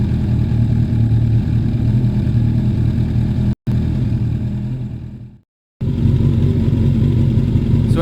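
A 600cc Kawasaki ZZR600 or Suzuki Bandit motorcycle engine running steadily up close, briefly cut out, fading to silence, then restarting and running again.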